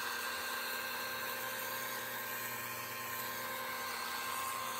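A power polisher works over a Buick car hood, a steady high whine with a continuous motor drone and no breaks, fairly close and alone without talk.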